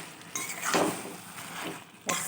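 A spoon scrapes and clinks against a pan while Bengali taro-leaf greens are stirred in hot oil, with irregular close scraping strokes and a couple of sharper metallic knocks.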